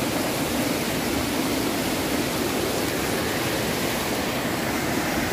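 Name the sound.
sudden flood of rushing river water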